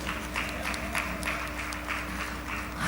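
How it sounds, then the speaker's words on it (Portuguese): A church congregation applauds in rhythmic bursts of clapping, steady and moderately distant, with no talk over it. "vamos aplaudir Jesus"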